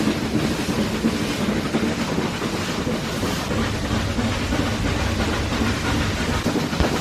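Nilgiri mountain train with a Swiss-built locomotive pushing its carriages, running on the rack line from Mettupalayam to Ooty: a steady, loud rumble of wheels on rails with rattling carriages and wind noise throughout.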